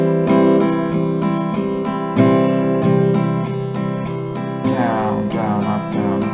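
Acoustic guitar plays several rounds of a steady strumming pattern, a down stroke, short break, then quick down-up strokes, ringing chords loud and continuous with a brief slide or string squeak near the end.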